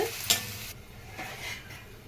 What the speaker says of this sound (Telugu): ఫ్రైలో వేసుకుంటున్నాను. ఈ తోటకూర మగ్గాలండి.